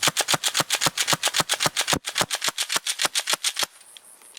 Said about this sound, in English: This has been over 100 shots and we're still going strong.